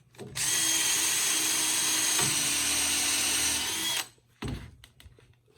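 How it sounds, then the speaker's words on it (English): A power drill bores a single hole into the wood of an Adirondack chair kit, one loud, sustained whine for about three and a half seconds, close by, followed by a short thud and a brief second burst. "I'm going to go ahead and drill one hole."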